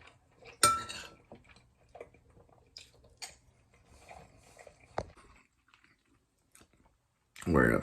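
Cutlery clinks against a dish, then soft chewing of a bite of food with occasional scrapes, close and quiet, ending with a brief burst of speech.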